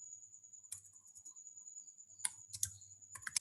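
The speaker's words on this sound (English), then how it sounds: "Then you can just type" Fingers type on a computer keyboard in a quiet room, two short bursts of light, rapid key clicks, with a faint high steady tone in the background.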